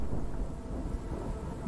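Heavy rain with a low thunder rumble in the video game After Us, a dense, even hiss of falling water over a deep continuous roll, with no speech.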